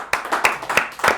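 A small group gives a slow, deliberately sarcastic clap at a Penn State Lion Scouts after-hours show: about four distinct, evenly spaced claps, close and fairly loud, with no talking over them.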